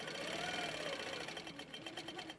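Sewing machine free-motion quilting a feather design, backtracking to stitch the spine, a continuous close mechanical hum and rapid needle chatter that runs steadily and eases slightly toward the end.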